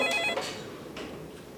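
A telephone rings faintly in a home in one short electronic burst, and a quiet room tone follows it.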